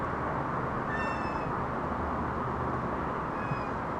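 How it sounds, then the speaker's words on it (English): A cat meows twice over a steady roar of background noise: one clear, drawn-out meow near the start and a shorter, fainter one near the end, with no talking. "I think there's a cat that's distracting me"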